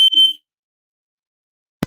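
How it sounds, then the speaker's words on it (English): A household smoke detector going off indoors: a short, piercing high beep chirps a couple of times, then silence, followed by a brief low thump. "that's my smoke detector goes off a lot"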